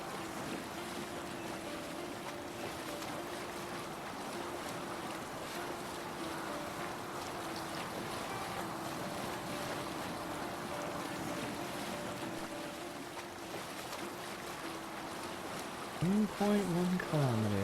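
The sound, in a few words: Viking boat sailing on water in Assassin's Creed Valhalla video game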